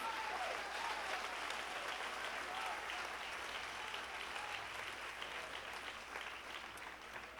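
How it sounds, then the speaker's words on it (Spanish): Church congregation applauding during a sermon, a faint but continuous wash of many clapping hands heard from a distance, steady throughout with crowd murmur beneath. "Damos un fuerte aplauso al Espíritu Santo de Dios."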